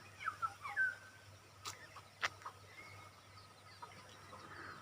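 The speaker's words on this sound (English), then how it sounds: "Look at the hens and chicks." Hens and chicks clucking in a village, a few faint short clucks and calls scattered over quiet background hum, heard at a distance with no talk.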